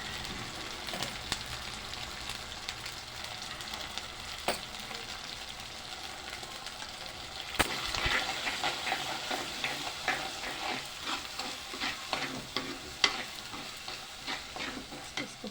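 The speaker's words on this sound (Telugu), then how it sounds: "చక్కగా ఆయిల్ పైకి తేలిపోయింది, మంచి ఫ్రై అవుతుంది మసాలా" Masala for a murgashila fish curry sizzling and frying in oil, with steady crackle and occasional stirring scrapes, close and moderately loud with no talking.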